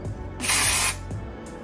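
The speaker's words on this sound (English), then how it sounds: "I take my hair and I spray all the front" Hairspray from a large aerosol can blasts onto hair in one loud, sustained hiss lasting about half a second, with quieter room noise before and after.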